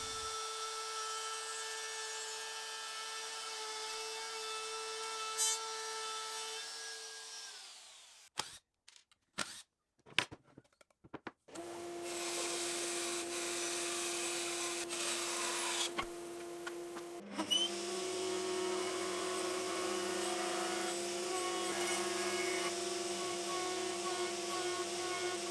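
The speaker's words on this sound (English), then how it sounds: "I need to be really careful to not let the router bit slip off this temporary jig that I've drilled to the LVL" A template router cuts LVL wood while guided along a temporary drilled-on jig, its steady high motor whine running close and loud, interrupted by a burst of clatter midway, then resuming with a lower-pitched cutting tone.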